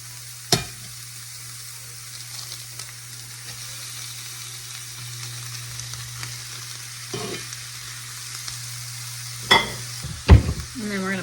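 A pound of ground beef sizzles steadily in a hot pan, a soft continuous frying hiss with a few clanks and scrapes of a utensil; no speech.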